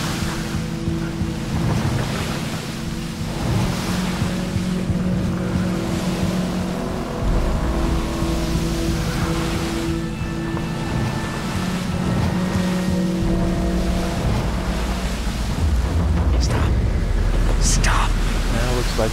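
A boat engine drones steadily in the video game Battlefield Bad Company 2, mixed with a constant wash of surf and wind, with occasional voices over the loud, unbroken rumble.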